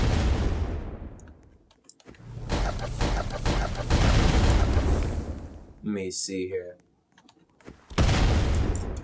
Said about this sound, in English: Yeah, the explosions are really cool.